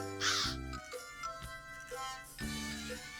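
Birds caw in a Scooby Doo video game, with a few harsh, fairly loud calls spaced across the stretch over a tonal in-game music bed.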